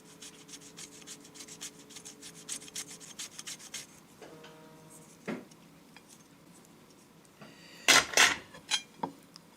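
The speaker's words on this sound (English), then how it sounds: "So let's get grating." White truffle rubbed across a fine grater, giving a quick run of light, dry scraping strokes followed by a few sharper metallic clinks and scrapes near the end, close up with no talking.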